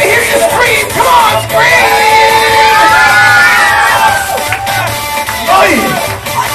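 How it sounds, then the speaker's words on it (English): A large crowd screams and cheers continuously, loud and sustained, with shrill yells rising and falling throughout. "Come on. Get them to hear you scream."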